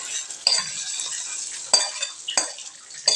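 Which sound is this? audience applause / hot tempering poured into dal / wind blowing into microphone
hot tempering poured into dal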